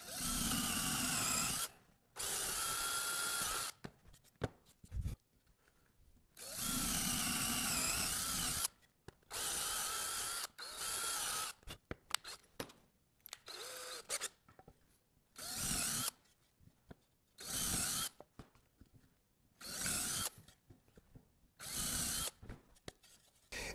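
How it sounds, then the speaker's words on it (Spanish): Power drill with a 3/8 bit boring through wood pieces for a Christmas tree project, in repeated bursts of a few seconds each, with short quiet gaps and light handling noises between them. "Entonces vamos a barrenarlas."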